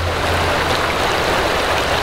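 The Dungeness River flows in a steady, close, full rush of water, continuous and loud with no pauses.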